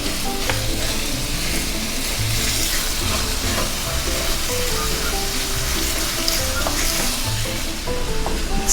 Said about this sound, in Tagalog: It's taking me around 5 minutes to make the ground pork cooked and somehow brown.